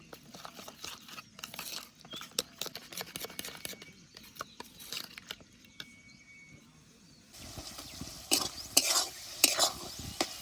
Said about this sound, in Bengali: এখানে মশলাটা ভালো করে কষানো হয়ে গেছে।